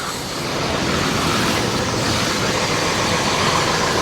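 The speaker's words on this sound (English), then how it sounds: "It's a naval shuttle bus there." A naval shuttle bus drives along a busy Sydney city street near the Queen Victoria Building at lunchtime in winter. Its engine rumbles in a loud, steady roar mixed with street noise.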